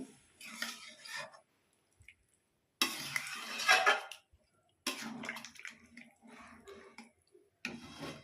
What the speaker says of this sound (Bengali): আবার একটু নাড়াচাড়া দিয়ে মিশিয়ে নিচ্ছি।